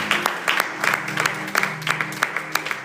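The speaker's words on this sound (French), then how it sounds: "Acclame pour la gloire de l'Éternel." A church congregation claps in a steady rhythmic beat, many hands striking together in a lively, even pulse under faint voices.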